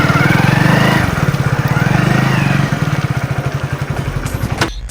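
A big, expensive motorcycle's engine runs close by with a loud, throbbing chug that settles into a steady pulsing idle, fading and ending abruptly, with no voices.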